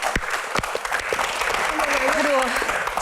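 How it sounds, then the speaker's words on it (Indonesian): A talk-show studio audience applauds for a doctor, a steady burst of clapping with a voice speaking over part of it. "tepuk tangan untuk dokter Boy"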